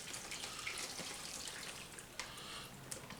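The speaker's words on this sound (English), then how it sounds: "And then we're just going to pour this marinade" Liquid marinade pouring over meat in a bag, a faint, steady watery trickle with a few small splashes and drips, close by with no talking.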